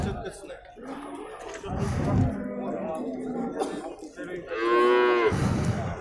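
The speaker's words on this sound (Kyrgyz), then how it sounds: "Мына ушул уй." A cow at the Tokmok livestock market moos once, a loud drawn-out low call near the end, amid steady chatter, a cough and a chuckle from people nearby.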